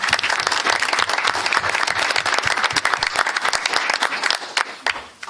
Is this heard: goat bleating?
no